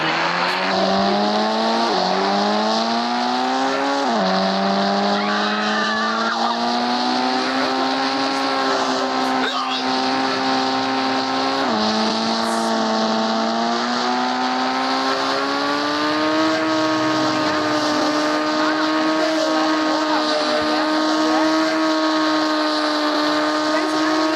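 Simulated car engine in the IBD3D mobile driving game, a steady droning hum whose pitch climbs as it accelerates and drops sharply at each gear change, continuing throughout.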